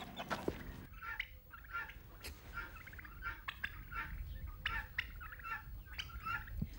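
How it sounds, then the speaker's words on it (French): A farmyard turkey tom gobbles repeatedly in short rattling bursts, close and fairly loud, with fowl clucking around it in the barnyard. "Il s'agit de Maître Dindon."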